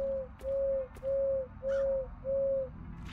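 Five evenly timed, sustained bird calls ring out in the video game Crow Country, each one clean and tonal over a faint low rumble.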